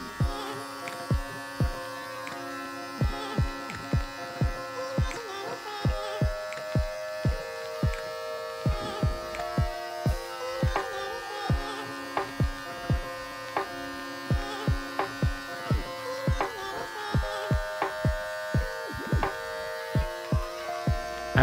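An electric beard clipper buzzes steadily at home while trimming a beard, with a rhythmic series of short strokes that repeatedly cut in and out close to the microphone.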